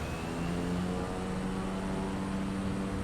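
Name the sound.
Cessna 208B propeller aircraft engine in a flight simulator game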